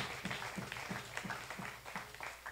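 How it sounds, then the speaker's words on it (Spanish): A church congregation claps in a steady rhythmic beat, about three claps per second, soft and somewhat distant with a hollow room sound. "¿Cuántos pueden darle esas palmas a Cristo?"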